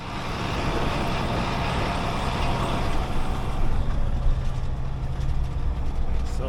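A Volvo truck drives back to a canola field during harvest, its engine giving a continuous rumbling drone with road and wind noise, steady and fairly close throughout.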